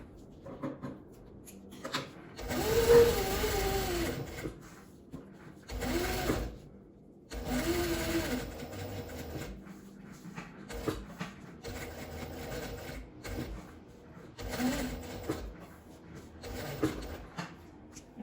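A sewing machine stitches a small trapezoid zipper pouch in bursts of fast mechanical whirring, several runs separated by short pauses and light handling of fabric, close and fairly loud with no talking.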